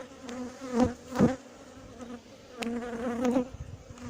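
Honeybees humming in an open queenless colony, a close buzzing drone with several louder swells as individual bees pass near, rising and falling unevenly with no talk.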